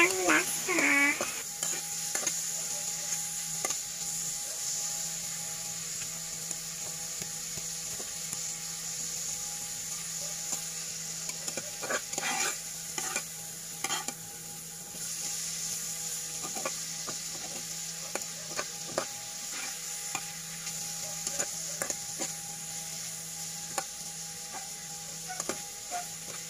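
Tomatoes stirred and sautéed in a pan for sardine and misua soup, with a steady sizzle under repeated scraping, clicking strokes of a utensil against the metal, close and continuous.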